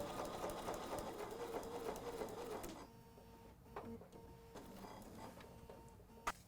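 A sewing machine stitches fabric along a paper-piecing line with a shortened stitch length. A steady, rapid mechanical whirring runs for nearly three seconds, then gives way to quieter scattered clicks and taps.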